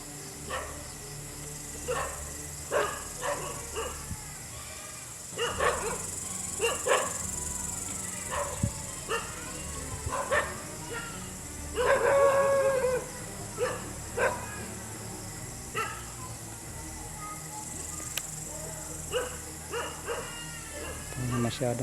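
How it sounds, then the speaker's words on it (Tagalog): Dogs bark in scattered bursts during an outdoor night patrol, short repeated barks at moderate distance over a steady hum of insects, with a person talking now and then. "tahol ng tahol yung mga aso"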